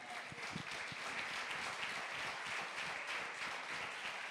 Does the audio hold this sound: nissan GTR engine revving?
no